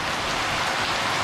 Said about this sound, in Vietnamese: mà sao mà cứ mưa hoài vậy trời